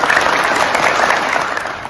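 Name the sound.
applause for the pupils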